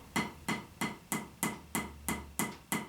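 Drum strokes struck in a steady, evenly spaced series of eight sharp, close hits, each with a quick decay, played alone as part of a flam demonstration on a practice surface or snare.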